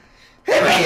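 A single sharp sneeze bursts out loud and close after a brief quiet moment, with a spoken exclamation around it.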